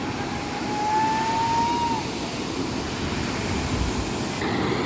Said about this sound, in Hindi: ये है वाटरफॉल